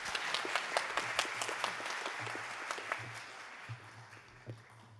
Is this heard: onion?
no